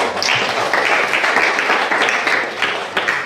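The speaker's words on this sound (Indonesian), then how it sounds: "Kita beri tepuk tangan dulu." Students in a tenth-grade Indonesian language class applaud a classmate, a short burst of clapping from a roomful of people, fairly loud and uneven throughout.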